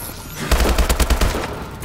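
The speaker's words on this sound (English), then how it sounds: "He freaking shot me with FBO" A burst of video game gunfire, about eight rapid shots in a quick rhythmic volley, loud and close, with no speech over it.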